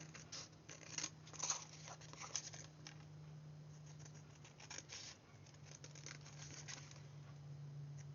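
Scissors cutting a paper panel for a pop-out fold craft, faint irregular snips and crisp paper rustles, close by over a low steady hum, with no voices.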